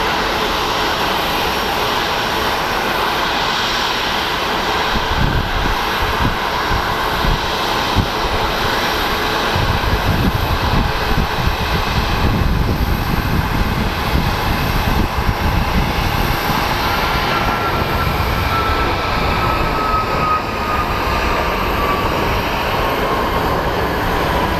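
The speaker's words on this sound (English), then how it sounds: "this American Airlines flight is showing not available where it's headed, but we'll still catch it taking off" An American Airlines jet taking off at Phoenix Sky Harbor International Airport, heard from a distance as a loud, sustained engine roar. The rumble swells through the middle and holds steady, with no talking.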